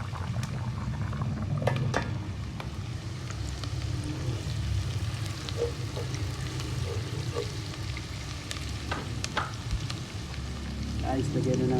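Rice (sinaing) boiling in a pot on a home stove while cooking chicken tinola, a steady bubbling rumble throughout with occasional clinks and faint background noise.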